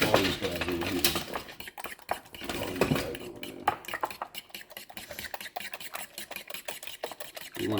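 Eggs whisked by hand with a fork in a bowl for jalapeño scrambled eggs, giving quick, irregular metallic clinks and scrapes against the dish, close and moderately loud, with no talking.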